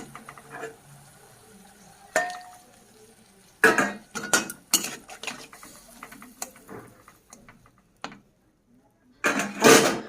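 Green beans and shrimp stirred in a pan with a little water: sharp scraping clatters of a utensil against the pan come in irregular bursts separated by quiet gaps, close and fairly loud.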